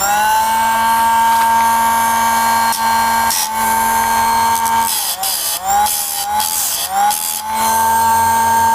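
An electric chainsaw sharpener runs steadily with a loud motor whine, and the grinding wheel bites into the chain in a few rougher bursts near the end before the pitch settles again.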